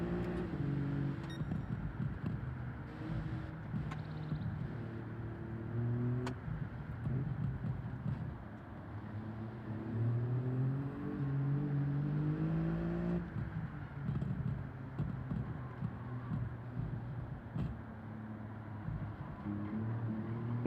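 A race car engine in Gran Turismo 7 accelerating and shifting through gears, a continuous droning roar with rising and falling pitch sweeps, steady and fairly loud throughout with no talk.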